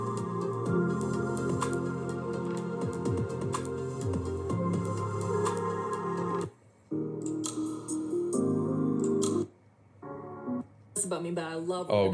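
Mellow chillstep music plays steadily with layered synth pads and beats, dropping out briefly a few times before resuming.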